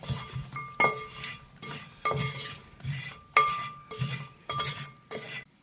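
Homemade sharkkara varatti with jaggery is stirred in a pan, the utensil clinking and scraping against the metal in repeated, fairly regular strokes, close and clear with quiet pauses between.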